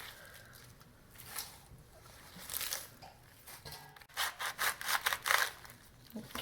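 A knife chops through escarole leaves on a cutting board, a series of crisp crunchy cuts, faint at first and then a quicker run of louder close strokes near the end.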